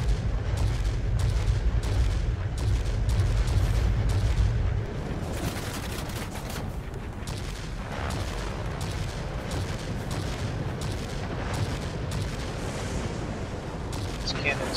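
Aircraft cannons firing on a tier IX Messerschmitt Me P.1099 B-2 attack plane in World of Warplanes, dense rapid bursts under heavy engine rumble, the low thumping easing after a few seconds while a voice talks over it.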